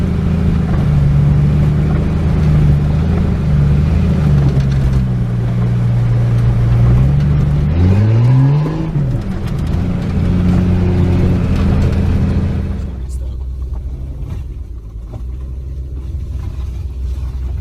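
A Ford Escape drives steadily through a flooded road with a loud, continuous engine rumble, a brief rising rev in the middle, then the sound drops to a quieter hum.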